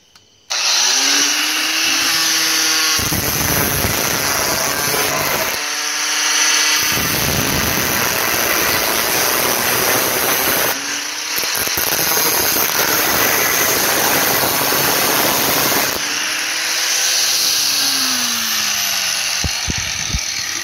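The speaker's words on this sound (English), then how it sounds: "might have to use the death wheel here and see if we can cut it open a little bit more" Cut-off wheel grinding into metal to cut it open, a loud, harsh continuous whine that rises and falls in pitch as the tool spins up, bites in and eases off over several long passes.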